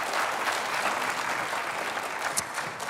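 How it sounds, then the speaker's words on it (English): A theater audience at Mesa Community College claps during a live morning show, a dense, steady round of applause filling the room with a sharp whistle-like accent near the end. "How about a nice round of applause from Mesa Community College?"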